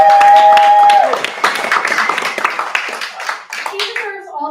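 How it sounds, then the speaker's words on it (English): Audience at a storytelling showcase at the Mechanics Institute applauds host Corey Rosen, a steady wash of clapping that fades gradually, with a voice speaking over it near the end. "He deserves all the applause and so much more."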